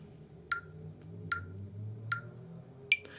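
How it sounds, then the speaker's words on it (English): A metronome ticks at 75 BPM, four crisp, evenly spaced clicks with the last one slightly accented, alone over a faint low room hum. "it's essentially this little device that basically clicks and kind of keeps a steady pulse"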